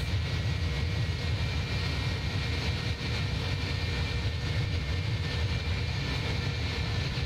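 Steady, loud roar of Airbus A310-300 jet engines climbing after takeoff in a flight simulator game, a constant broadband rush with a low rumble and faint tonal whine, unbroken throughout.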